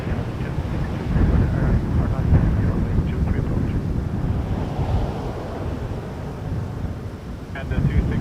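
A Porter Airlines jet, flight 158 from Ottawa, arrives at Toronto Pearson Airport. A loud, broad roar is buffeted by wind noise and lasts the whole clip, and a voice talks over it.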